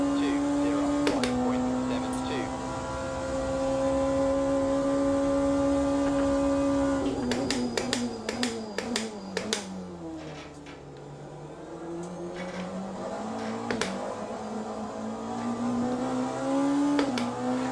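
Race car in the Le Mans Ultimate video game driving a lap, engine whine holding steady then revving through gear changes with sharp shift blips, dipping low and climbing again, loud and close with someone talking at times.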